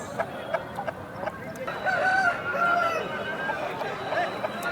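A rooster crows at a Friday poultry market at Nallapadu, a long wavering call rising over the bustle of clucking fowl and background chatter, with a few sharp knocks early on.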